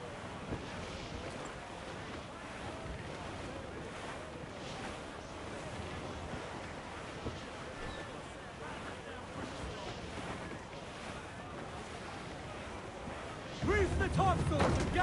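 Sailing ship under full sail in Assassin's Creed Black Flag, with steady wind and surging ocean waves rushing past the hull in a continuous wash, a louder gust near the end, and voices speaking over it.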